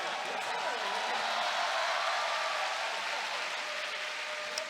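A crowd applauds at an LCK Spring League of Legends esports match, a steady broad wash of clapping lasting several seconds with talk faintly underneath.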